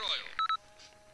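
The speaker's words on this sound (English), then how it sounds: "And why is my phone going off?" A mobile phone going off with a few short electronic beeps and tones, fairly faint and brief, while a voice speaks underneath.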